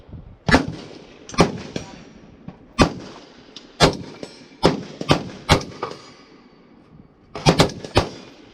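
An HK MR762 rifle fires single shots at a target, about a dozen sharp loud cracks spaced irregularly a second or so apart, each with a short fading tail, including a quick pair near the end.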